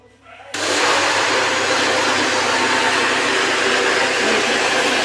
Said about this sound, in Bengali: এখন আমি 1 মিনিট ব্লেন্ড করে দিব।